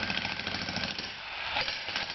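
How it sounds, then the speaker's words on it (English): A small jackhammer pounds away at concrete footings during a house foundation demolition, a dense, steady rattling hammer that runs continuously and fairly close for the whole stretch, with no talk over it. "nothing compared to this little jackhammer"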